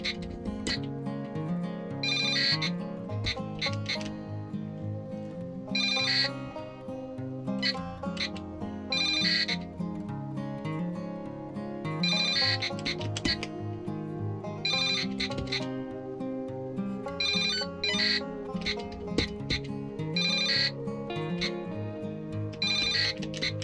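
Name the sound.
Arduino Tetris game sound effects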